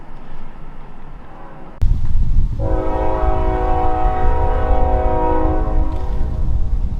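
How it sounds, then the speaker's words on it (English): A train rolls through town with a loud, sustained horn blast over the heavy rumble of the cars, close and dominant. "That's the Trump train driving through town."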